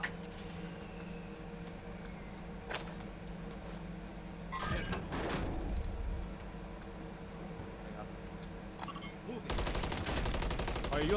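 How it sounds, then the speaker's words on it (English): Gunfire in a shooter video game, with scattered shots early on and a loud sustained burst of rapid fire near the end. Players talk throughout over a steady game background. "I'm getting shot from the back."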